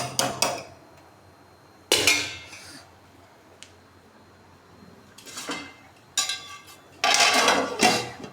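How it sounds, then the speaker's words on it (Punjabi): A metal lid set onto a pot of Punjabi kadhi made with homemade lassi: several loud clattering bursts of metal on metal separated by quiet gaps, close and with no talking. "ਇਹਦੇ ਤੇ ਦੇਤਾ ਢੱਕਣ"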